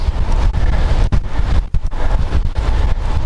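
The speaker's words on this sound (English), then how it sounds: "Holy cow, these are some big old wind gusts." Strong wind gusts buffet the microphone outdoors in heavy roaring bursts, with brief lulls between surges.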